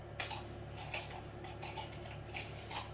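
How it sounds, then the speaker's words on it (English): A metal spoon scrapes and clinks inside a nearly empty spice jar, giving a handful of short, bright scraping strokes in an uneven rhythm, close up and alone. "So this jar is almost empty, so I'm scraping through."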